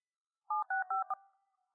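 A telephone keypad sends a quick run of four or five clean touch-tone beeps, evenly spaced and clear against silence, then a short fading tail.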